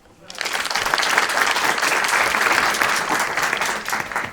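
Audience applause at a French-speaking gathering with a Malian griot, starting abruptly after a short pause and holding as a dense, steady round of clapping for about four seconds, with no one talking over it.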